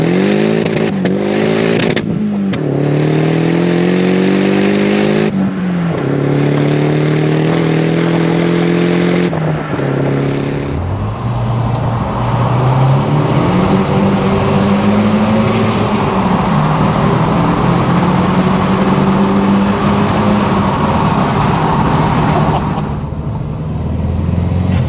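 A VW Golf GTI MK2 turbo hot hatch drives on budget Accelera tyres, its engine note rising and falling through gear changes, loud and close, with steady road and wind noise and no talking.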